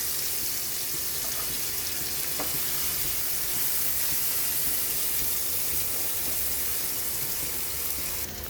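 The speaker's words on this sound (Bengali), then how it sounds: "এবার গরম তেলে রাখা তেলটার মধ্যে পেঁয়াজ ছেড়ে দিতে হবে" Chopped onions frying in hot leftover fish-frying oil in a pan, a steady, even sizzle that runs throughout at moderate loudness, with a faint tap or click partway through and no talking.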